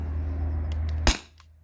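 A single sharp shot from a modified T4E HDP50 Gen 1 pistol running on an HPA tank, a loud close crack cutting off a steady low hum, with a faint click after.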